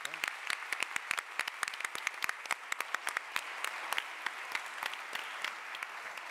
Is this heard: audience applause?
yes